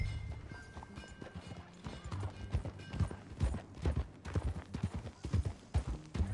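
Horse hooves clip-clopping during a ride in Red Dead Redemption 2, an uneven run of dull thudding footfalls at moderate volume with some rattling tack, fairly close and continuous.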